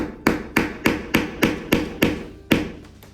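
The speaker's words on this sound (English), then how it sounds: "blunt the end of the nail" A hammer strikes the end of a nail to blunt its point, eight sharp metallic blows in a quick, even rhythm, close and loud, each ringing briefly before the next, with no one speaking.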